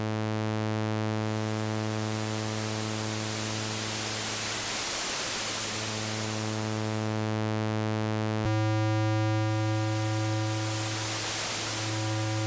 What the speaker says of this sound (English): Next mode is a noise mode, where you can crossfade the waveform with white noise.